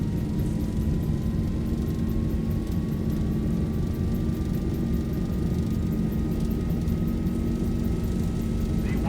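Zibo 737-800 jet on its takeoff roll in X-Plane 12, a loud continuous engine roar with a slowly rising whine, steady and close throughout with no voices.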